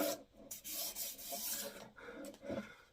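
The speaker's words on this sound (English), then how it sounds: "Just give it a light sand and take out any potential splinters." A wooden handle of a cast steel double bit axe being sanded with sandpaper, giving close, steady rasping strokes that rise and fall in a quick back-and-forth rhythm with short pauses and no talking.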